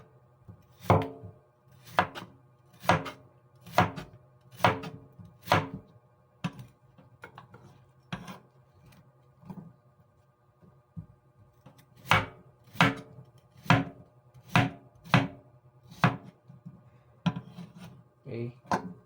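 Cucumber being chopped on a cutting board, sharp knife strikes in quick bursts with a pause mid-way, close and crisp, no talk over it.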